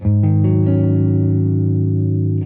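A distorted electric guitar rings out a sustained suspended fourth chord, notes added in quick succession and held loud to the end.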